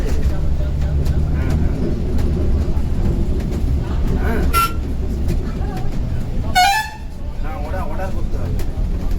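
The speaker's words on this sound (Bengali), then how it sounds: "এটা কিন্তু ভলভোর অরিজিনাল সাউন্ড" A Volvo bus drives on the Second Hooghly Bridge on a Kolkata to Digha route. Its engine gives a steady low rumble, heard from inside the bus, broken by a couple of brief tonal toots.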